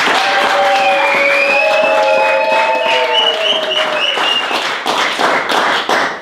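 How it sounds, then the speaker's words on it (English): A church home group congregation claps to welcome their bishop, brisk rhythmic clapping mixed with sustained voices rising and falling above it, loud and close throughout. "So with joy and with gladness, I want to clap our hands and celebrate"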